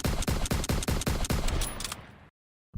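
A rapid burst of about ten gunshots in quick even succession, loud and close, played as a sound effect on a gaming podcast, then cut to abrupt silence.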